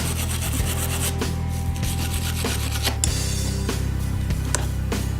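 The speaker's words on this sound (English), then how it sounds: "A quick cleanup with the wire brush on the caliper bracket will ensure that this caliper can move freely back and forth." A wire brush scrubs a 1993–2002 Camaro brake caliper bracket, giving a steady, close rasping scrape with rhythmic strokes that run continuously through the whole stretch, with no talking.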